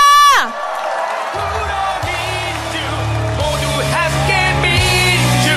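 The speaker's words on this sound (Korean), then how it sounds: "뜨거운 박수와 함성 부탁드립니다" Supporters at an outdoor presidential campaign rally in Yeongdeungpo, Seoul, cheer and whoop loudly after an announcer's voice, the crowd roar swelling and continuing throughout.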